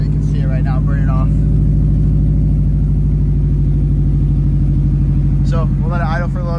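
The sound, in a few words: Subaru STI engine idling while oil burns off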